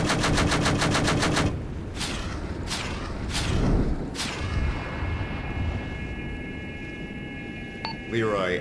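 A helicopter gun fires a fast, loud burst of rapid shots during a military operation, followed by several single heavy booms spaced about a second apart, with radio chatter and beeps afterward.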